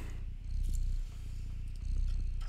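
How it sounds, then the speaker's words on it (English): A cat purrs in the video game Stray during a loading screen, a close, low, rhythmic rumble that swells and fades with each breath over a quiet backdrop. "I can hear the purring during the loading screen."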